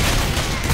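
Dense gunfire from the zombie shooter video game Left 4 Dead, a steady loud burst of overlapping shots with no clear gaps, filling the whole short moment.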